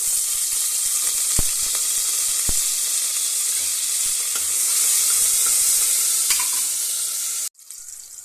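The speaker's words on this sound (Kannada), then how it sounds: "ನೋಡಿ ಈರುಳ್ಳಿ ಫ್ರೈ ಆಗಿದೆ" Onions frying in oil for mint pulao make a steady, loud sizzle with a few sharp stirring clicks, then the sound cuts off near the end.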